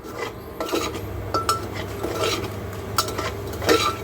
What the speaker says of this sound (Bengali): তো এই হচ্ছে নাড়াচাড়া করছি আমি